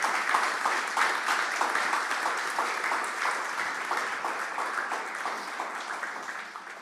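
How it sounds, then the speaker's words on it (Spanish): Applause from a church congregation fills the space, a dense, steady clapping that carries on for several seconds and slowly fades toward the end. "Yo quiero que le des un aplauso al Señor en este momento."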